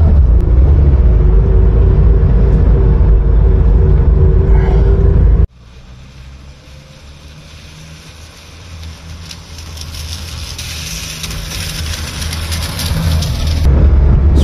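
A 1971 Hillman Imp Super being driven, with a loud, steady engine and road rumble inside the car, a sudden drop to a quieter drone midway, then a gradual build back up, and no talking.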